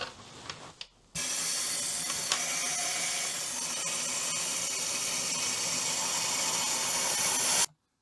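An aerosol of pink cavity wax is sprayed through a 360 sprayer tip into a BMW E46 Touring chassis, giving a continuous close, loud hiss for about six seconds that cuts off abruptly, preceded by faint handling clicks.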